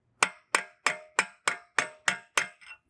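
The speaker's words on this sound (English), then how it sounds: "We'll take our hammer." Eight sharp, evenly spaced metallic taps ring out as a hammer strikes a brass punch against the rear axle of a 2015-2021 Volkswagen Mk7 Golf R, each hit close and bright with a short decaying ring.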